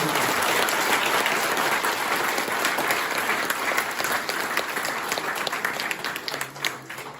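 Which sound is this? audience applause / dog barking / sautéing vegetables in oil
audience applause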